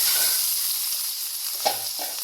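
Onion hitting hot oil in a pan where dried sardines were just fried, giving a steady close sizzle throughout with a brief sharper clatter near the end.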